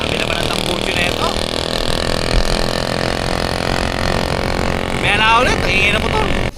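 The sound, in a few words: noisy motorcycle exhaust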